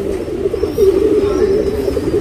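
A tournament racing pigeon cooing close by, a steady low throaty rolling coo that continues without a break and stands out clearly over faint background noise.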